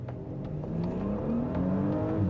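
An Audi S5 Avant accelerating hard from a standstill, its engine note rising steadily in pitch as it pulls through a gear, loud and continuous with no talk.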